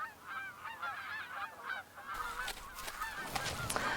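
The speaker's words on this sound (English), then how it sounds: "Rowdy Canada geese broadcast her arrival." Canada geese honk loudly and repeatedly on an outer coast island, their calls overlapping into a rowdy chorus that grows busier and louder partway through, with wind-like rushing noise underneath.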